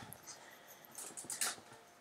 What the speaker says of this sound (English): And that's my dog eating out of his bowl,